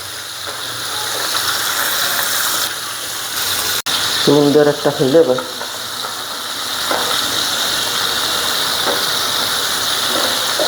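Shrimp fry in a pan with spices, giving a steady, fairly loud hissing sizzle that continues throughout while a person briefly talks in the middle.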